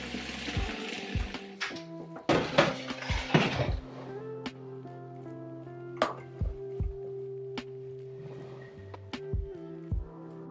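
A metal pot is readied on a kitchen stove for water bath canning strawberry jam: a series of sharp clanks and knocks, with ringing metallic tones that hang between hits, and a brief rush of running water early on, close and alone.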